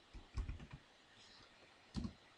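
Keys on a computer keyboard are tapped in a quick cluster of soft clicks, then a single keystroke after a short pause, all faint and close in a quiet room.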